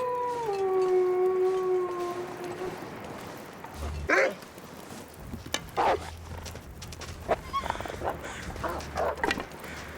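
A wolf in the survival game The Long Dark howls with a long wavering tone, then follows with a few sharp barks and growls that break up a quieter stretch.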